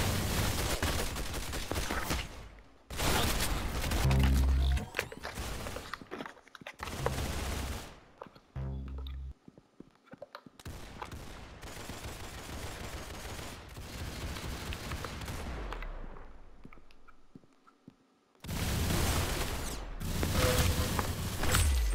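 Gunshots in the Roblox game Arsenal crackle in loud, dense volleys broken by sudden silences, with scattered mechanical clicks and footsteps between bursts.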